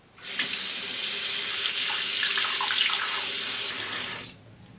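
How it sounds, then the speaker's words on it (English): A bathroom tap runs a strong, steady stream of warm water into a sink, a loud hissing gush that starts abruptly, holds for several seconds and then cuts off to a faint trickle. "You're gonna fill your sink with warm-ish water, not super crazy hot."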